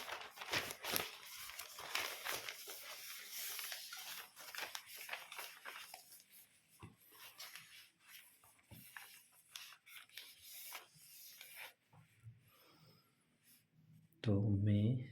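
Pen scratching on paper while solving an accountancy exercise, close rustling strokes and rubs that run in short bursts and thin out, ending in a brief loud thump.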